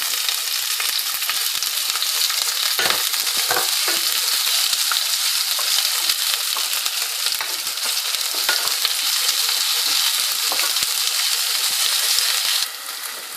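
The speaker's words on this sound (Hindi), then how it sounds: "अब मैं इसमें प्याज डाल के फ्राई करूँगी" Onions fry in hot oil in a pan for an aloo karela bhujia: a steady, dense crackling sizzle that runs unbroken and fairly loud for the whole stretch, with a few soft knocks and a slight drop at the very end.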